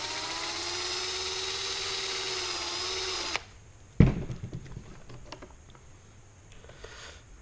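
A small power driver whirs steadily for about three seconds while removing a toe link from a Traxxas MAXX RC truck hub, then stops, followed by a sharp clack and light handling clicks.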